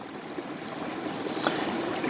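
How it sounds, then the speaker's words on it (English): A river and a brook flow beside a forest campsite at night, a steady close rushing and trickle of water with no voices. "all I can hear right now is the river and the brook beside me"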